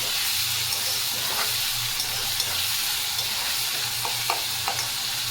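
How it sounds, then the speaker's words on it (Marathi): Chopped red tomatoes fry in a pan for a Khandeshi-style tomato curry, with a loud, continuous sizzle and hiss, a low hum underneath, and a few spatula scrapes, mostly near the end. "त्याला चांगलं हलवून घेऊया आपण।"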